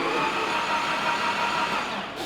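An SR20DET turbo engine in an AE86 drift car is cranked to prime the turbo with oil, giving a steady, dense mechanical whirr and drone, close and unbroken, that cuts off abruptly at the end.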